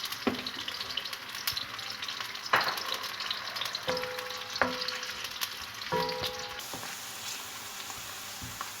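Sliced onions frying in about a cup of oil in a pan, a constant close sizzle broken by a few sharp clinks and scrapes of a utensil stirring.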